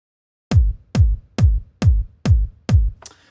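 Six punchy kick drum hits in a steady, evenly spaced rhythm, an old kick sample layered with a top layer, each with a deep booming body and a sharp clicky attack, with a faint crash at the end.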